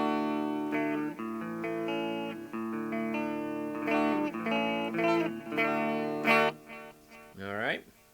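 Electric guitar notes run through a delay effect and played over a pair of small one-inch speakers, sustained tones ringing and trailing into repeats, ending with a sweeping bend, fairly loud with no talk.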